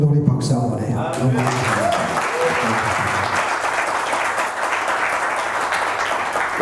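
A church congregation bursts into sustained applause at a Full Gospel revival meeting, dense steady clapping filling the hall after a brief moment of talk.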